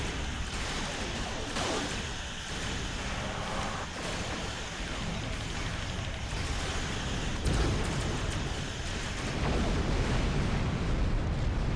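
Torpedo explosions in a Star Trek Online space battle, a sustained roaring wash of blasts with several sharper bursts cutting through, loud and dense for the whole stretch.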